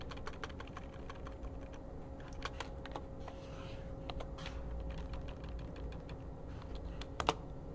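Typing on a computer keyboard during a basic Python programming session, a quiet run of irregular key taps over a steady low hum, with a couple of sharper clacks near the end.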